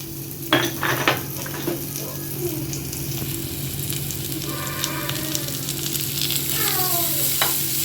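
Dried garlic, chillies and chopped onion sauté in a hot pan, giving a steady close sizzle with occasional scrapes and clinks of a spoon stirring against the pan, and no talking.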